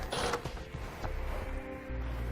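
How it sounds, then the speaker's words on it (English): A 10mm socket working a nut off a ground stud while a towed-vehicle wiring kit is installed: close, creaking mechanical turning with faint ratchet-like clicks against a steady low hum. "We'll remove the nut with a 10mm socket."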